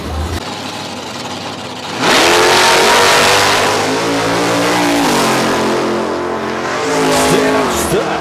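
A drag racing car launches hard down the strip, its engine suddenly roaring to a loud, sustained high-revving wail that holds for several seconds, with a brief easing and renewed surge near the end.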